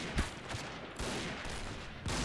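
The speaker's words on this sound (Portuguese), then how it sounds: "A sniper com bala com curva, mano." Sniper rifle shots in the Point Blank shooter game, a few sharp, sudden reports spaced irregularly over a short stretch, fairly close and punchy amid background game noise.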